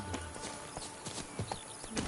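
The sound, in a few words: horse hooves clip-clopping in a video game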